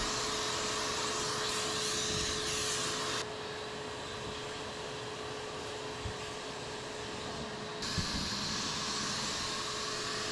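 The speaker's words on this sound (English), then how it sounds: "I'll go ahead and vacuum up any dust I see in the cabinet" A steady, loud vacuum motor whirs continuously while vacuuming dust from a condensate pump cabinet, its airflow tone shifting as the nozzle moves, with a faint constant hum underneath.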